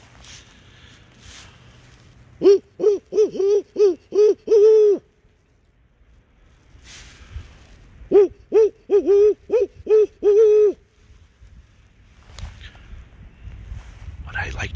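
A person imitates barred owl hoots during a spring night walk by an arboretum pond: two loud, rhythmic series of about six to eight hoots, separated by a quiet pause, with faint rustling between them.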